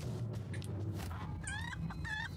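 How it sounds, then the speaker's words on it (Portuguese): Chicken clucking in the fantasy dungeon game Naheulbeuk's Dungeon Master, two quick clucking bursts near the end over a steady background hum and game noise. "A galinha já avisou as coisas."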